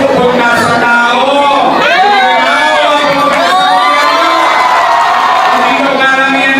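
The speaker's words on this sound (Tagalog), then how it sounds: "Dito karamihan ng sigaw." A large political rally crowd shouts and cheers loudly and continuously, many voices overlapping in whoops and chants at close range, dense and sustained from start to finish.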